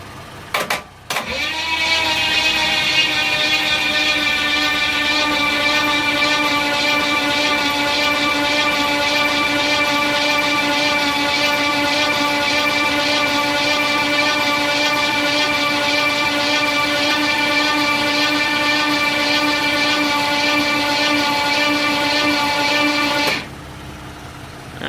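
A 1965 Pontiac LeMans engine is cranked over by its starter with the spark plugs out, producing a loud, steady, droning whir that runs unbroken for about twenty-two seconds before stopping abruptly.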